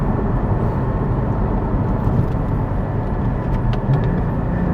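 A Porsche Cayman GT4 or Lotus Evora GT sports car engine roars steadily and loudly from inside the cabin, a dense continuous drone that holds without clear breaks as the car pulls under acceleration.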